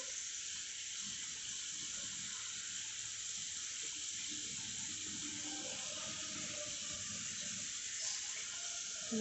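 Tap water runs steadily into a kitchen sink while tiffin box items are washed, a continuous close hiss and splash with faint clinks of dishes underneath.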